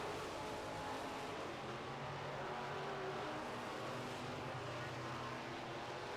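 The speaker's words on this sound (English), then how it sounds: "All these cars are starting to spread out in this race." Midwest modified race cars roar steadily around a dirt oval track during a heat race, producing a continuous, distant engine drone with no clear passes, and no talking.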